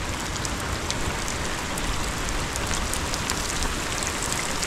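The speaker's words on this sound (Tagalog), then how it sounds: "Ano ulan na naman." Heavy rain falls steadily outdoors, a loud, constant hiss with dense pattering drops and no pauses.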